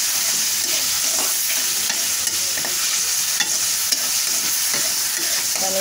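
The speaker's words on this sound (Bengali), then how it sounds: "মানে চিকেনটাকে একটু কষিয়ে নিব।" Chicken being sautéed in a pan, a loud continuous sizzle under steady scraping and stirring with occasional clicks of a utensil, and nobody talks.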